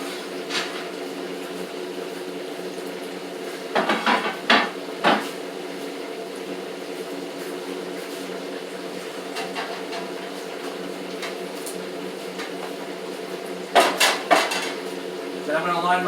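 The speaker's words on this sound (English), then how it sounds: "I'm going to grab a cookie sheet, set it on broil, high heat, high degree." A metal cookie sheet is grabbed and handled in a home kitchen while preparing spicy sriracha wings, giving a few sharp metallic clanks and rattles near the start and again toward the end over a steady low background hum.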